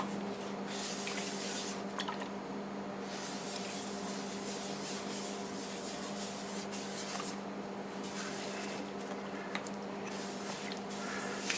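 Soft continuous rubbing and faint hiss as shellac-based sanding sealer is applied to a spinning walnut piece on a wood lathe, with a low steady motor hum underneath; quiet and close, no talking.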